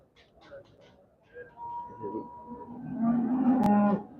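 Cattle low at a busy Sunday livestock market, with a long moo building toward the end above crowd noise and people talking nearby.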